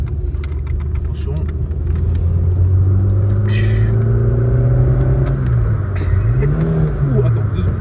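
A car without ABS, engine revving and climbing through the gears while driving, loud and close, with pitch rising then dipping near the end, with people talking over it.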